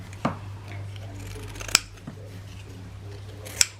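Scissors snip through fabric while a snippet roll is made, three sharp, crisp cuts spaced out over a low steady hum, close by and without talk.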